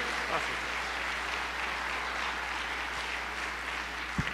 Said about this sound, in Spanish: brindémosle un fuerte aplauso a Fernando Ojeda Llanes